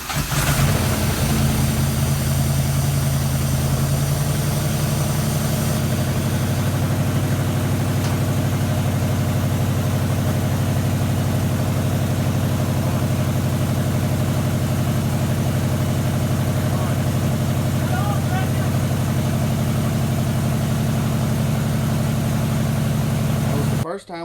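A Ford Foxbody fitted with a 4.6 engine starts up and keeps running with a steady, low idle drone throughout, close and continuous, with some faint rough fluctuation before cutting off at the very end.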